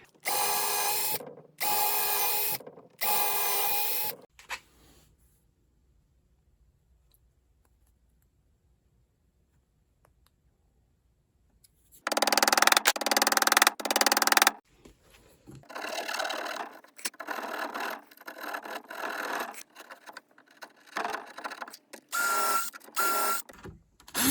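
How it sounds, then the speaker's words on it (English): Bursts of a small power drill whirring in short runs, drilling 1/8-inch holes in a wooden china cabinet door, separated by a quiet pause, then more rapid stop-and-start drilling. "I'm going to drill out these holes 1/8 of an inch"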